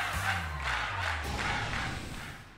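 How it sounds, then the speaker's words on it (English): A crowd roars and cheers in the Pokémon Scarlet video game, a loud, sustained wash of voices that stays steady and then fades out near the end. "This crowd so loud it could wake the dead."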